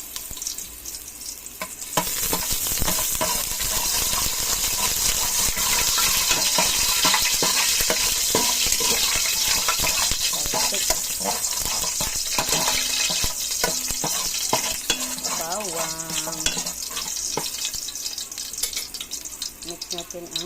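Garlic sizzles steadily in hot cooking oil in a pan, a loud, continuous frying hiss with scattered crackles and stirring scrapes throughout, starting with a brief quieter moment.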